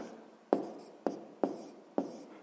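A pen writes out a maths solution at close range: four crisp, separate strokes or taps land about half a second apart, each fading quickly into quiet. No one speaks.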